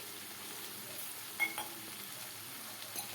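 A potato bhaji seasoned with red chili powder and turmeric is mixed in a frying pan, giving a faint, steady sizzle with a few soft spoon scrapes and light clinks, heard close with no talking.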